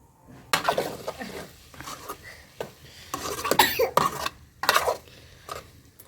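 A lid clatters onto a cooking pot in a few separate metallic knocks and scrapes, close and sharp, with brief rustling between them.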